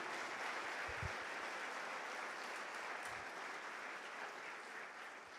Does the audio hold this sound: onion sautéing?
no